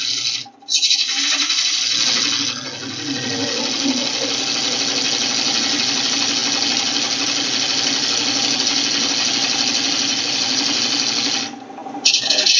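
Woodturning gouge cutting a tenon a little over a quarter inch thick into a spinning bowl blank on a lathe, a steady loud continuous scraping hiss with motor hum that runs almost unbroken throughout, with brief dips near the start and end.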